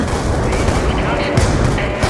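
Loud, dense gunfire from Call of Duty Black Ops 2, with rapid automatic bursts and booming blasts packed together without a pause.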